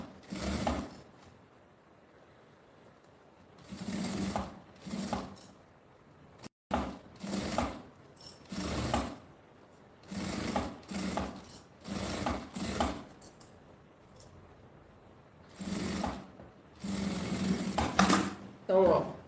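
Sewing machine stitching the seams of a handmade pochette bag, running in repeated short bursts separated by brief pauses, fairly close and moderately loud.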